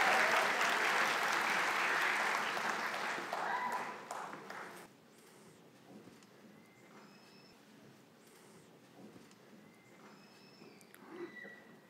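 Graduation ceremony applause for the runners-up: a dense burst of many hands clapping for about four seconds, then dying away into quiet room tone with scattered faint claps and small noises.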